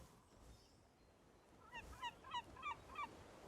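A seagull in Minecraft with the DawnCraft modpack gives a quick run of harsh, nasal squawking calls, about six in a row in a steady rhythm, faint and close against a quiet background.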